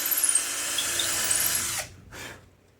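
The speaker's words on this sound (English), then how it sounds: "I'm going to drill these holes a little bigger so that the screw head doesn't" A power drill enlarges screw holes in a part of an Eight Ball Deluxe pinball machine, whining steadily up close for nearly two seconds, then stopping, with a short second burst before it fades.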